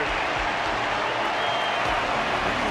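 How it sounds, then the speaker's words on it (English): Steady crowd applause from an in-game audience in Honkai: Star Rail, saluting a resilient Balabagian fighter at a wardance match; a dense, continuous wash of clapping at constant loudness with no voices. "Their constant applause is a salute to this resilient Balabagian fighter."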